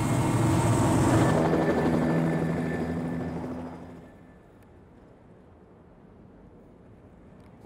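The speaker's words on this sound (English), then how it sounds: "When that helicopter took off and it was just deadly silent" A helicopter rises and flies off across Arctic sea ice in minus 28 degree cold, its loud rotor roar fading over four seconds into near silence as it leaves.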